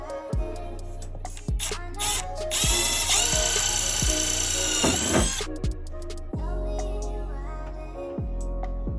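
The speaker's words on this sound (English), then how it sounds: "Have you ever drilled into a hood before?" A power drill bores holes into the hood of a Subaru STI, the motor whirring in sustained bursts with a harsh, loud grinding stretch in the middle, separated by short pauses and mechanical clicks.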